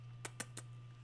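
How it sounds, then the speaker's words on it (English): A cat walks across a computer keyboard, producing three quick, crisp key clatters spaced a fraction of a second apart over a steady electrical hum. "Don't jump on the keyboard."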